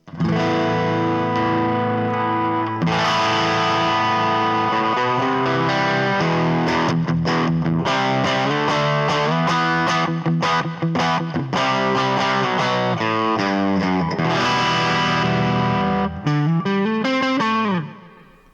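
An electric guitar plays through a Harley Benton DNAFx AmP1 amplifier's overdrive, with distorted sustained chords and quicker picked notes, ringing with effects and ending in a bending note.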